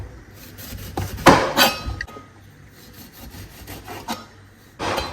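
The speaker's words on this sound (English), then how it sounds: "We'll start by peeling our orange." An orange being peeled with a sharp knife, giving soft scraping and rubbing strokes in a few separate bursts, close up and with no talking.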